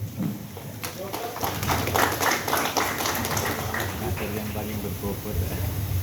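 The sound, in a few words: audience applauding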